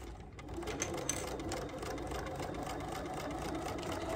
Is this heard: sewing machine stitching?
yes